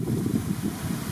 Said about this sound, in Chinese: 一样可以感受到风呼呼的吹